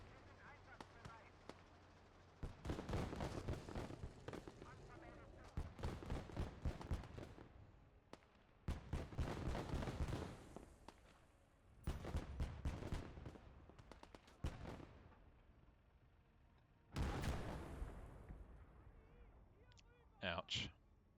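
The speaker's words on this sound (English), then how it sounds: "firing shots over his head there." Gunfire crackles in the WWII strategy game Gates of Hell, with several loud bursts of rapid shots and heavier blasts separated by brief lulls. A voice talks over parts of the firing.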